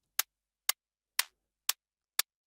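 Processed hi-hat with flanger and other effects lands five evenly spaced hits, each broader and fuller than a dry tick with a slight swirling tail, isolated and fairly quiet.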